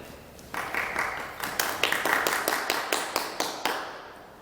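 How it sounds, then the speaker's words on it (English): A few audience members at a Fresno city council candidates forum give a sparse, uneven round of claps, a dozen or so distinct hand slaps that start abruptly and thin out within a few seconds in a quiet hall. "Please hold your applause until the end."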